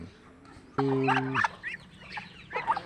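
Chickens and ducks on a farm call out, with one loud, steady honking or crowing note up front followed by scattered clucks and squawks at close to middle distance.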